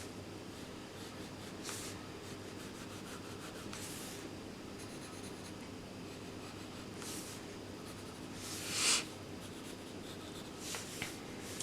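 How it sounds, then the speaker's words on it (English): A pencil draws eyelashes on paper, making soft scratchy strokes in short bursts over a faint steady background, close and quiet. "now I'm just drawing the eyelashes"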